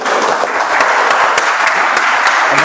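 Audience applause at a meeting, a steady dense round of clapping from a roomful of people, loud and continuous throughout with no voices standing out.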